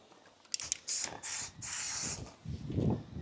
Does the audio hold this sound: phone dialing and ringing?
no